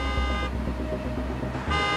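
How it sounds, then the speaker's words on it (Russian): A car horn from a following car honks on the road, a loud sustained toot that cuts out briefly and resumes, heard close over engine and traffic noise. "Госпожа Пелин, за нами едет господин Феррит и сигналит"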